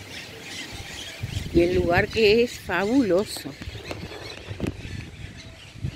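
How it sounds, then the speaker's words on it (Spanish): Parrots and small birds in a park let out several sharp, warbling squawks in quick bursts, with someone speaking Spanish over them. "Se sienten los pajaritos, las loritas."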